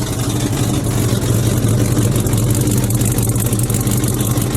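A 1979 Dodge Li'l Red Express pickup with a 360 engine idles through its exhaust stacks, giving a steady, loud, close rumble that runs unbroken with no talking.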